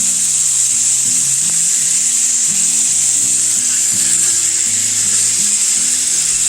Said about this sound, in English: While our meat's browning